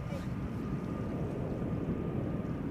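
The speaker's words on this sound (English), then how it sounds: "Bombardier C-Series 300, aka the A220. Air Baltic going to Riga." An Air Baltic Airbus A220-300, the Bombardier C-Series 300, departs Amsterdam Schiphol with a loud, steady broadband jet roar that fills the whole stretch.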